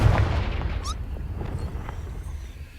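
A blast from the Confringo fire spell in Hogwarts Legacy lands as one deep, booming burst with a rumbling tail that slowly fades, followed by a few faint magical chimes.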